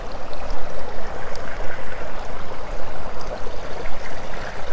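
Bubbling, churning water in a small children's pool at the Allegro Isora hotel on Tenerife, frothing like a jacuzzi, a steady close rush with gentle surges and no voices.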